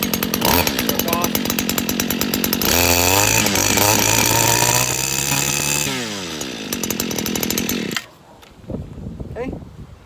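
A Stihl FS 94r string trimmer revving loudly after a cold start, its engine pitch rising then dropping away before cutting off, with a voice speaking briefly near the end.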